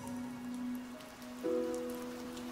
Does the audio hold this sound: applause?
no